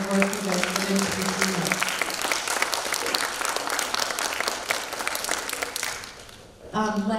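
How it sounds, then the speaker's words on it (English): A group of sixth graders at a school Greek gods festival applaud themselves with lively, sustained clapping and some cheering, and a voice speaks briefly at the start and again at the end. "big round of applause for yourselves for all the hard work you guys put into this"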